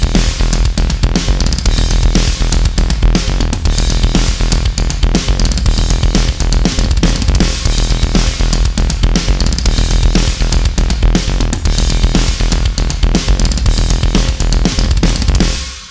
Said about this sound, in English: the synth line on its own. And then both together,